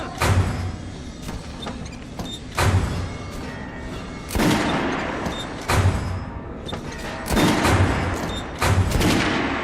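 Gunfire in the first-person shooter Metro: Last Light, with loud repeated bursts of shots and heavy thuds every second or two and mechanical clanks in between.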